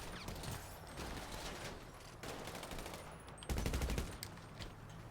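Gunfire in GTA Online: rapid bursts of automatic weapon shots crackle continuously, with a louder, closer burst partway through and quieter shooting around it.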